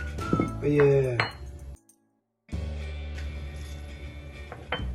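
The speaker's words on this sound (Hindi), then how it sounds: "इसको हम अच्छे से मिक्स करेंगे।" A potato and egg mixture being mixed in a bowl with a utensil, giving bright clinks and scrapes against the bowl under someone speaking, a brief silent gap, then more mixing sounds behind continued talk.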